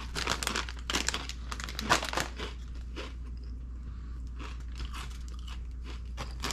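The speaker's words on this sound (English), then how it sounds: "they got a great crunch to them" Kettle-style potato chips being crunched and chewed close to the mic, a rapid run of crisp crackling bites with brief pauses between chomps, no talking.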